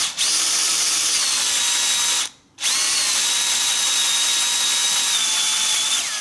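A power drill bores slowly with light pressure into a broken bolt, producing a steady, close, high-pitched whine that stops for a brief moment midway and then resumes until the end.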